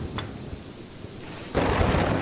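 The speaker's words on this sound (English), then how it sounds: "here's a major storm" A major thunderstorm in Kingdoms & Castles: soft patter and a faint clink give way to a sudden loud surge of heavy rain and rumbling thunder that fills the rest of the moment.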